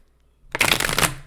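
Tarot cards riffle-shuffled in one quick burst of dense, crisp flutter, close and fairly loud, fading out after about a second.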